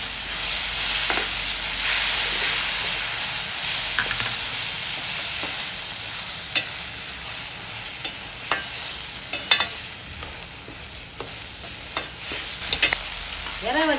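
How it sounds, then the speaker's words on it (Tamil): Ginger garlic paste and tomatoes fry in a pan with a steady close sizzle and hiss. Intermittent scrapes and clinks of stirring come through, and no one speaks. "இஞ்சி பூண்டு பேஸ்ட்டு போட்டுக்கிறேன்."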